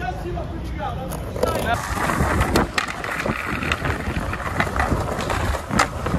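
Strong wind buffets the microphone while skateboarding outdoors, giving a loud, rushing rumble with gusts and board rolling noise throughout.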